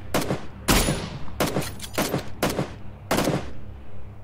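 Suppressed Kar98k rifle shots in PUBG: Battlegrounds, about six sharp muffled cracks spread over four seconds at an irregular pace, fairly loud, with no talking.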